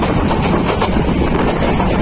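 Locomotive number 2236 passing on the Dhaka to Chittagong line, a steady loud rumble with rhythmic clatter of wheels on track, continuous and close throughout.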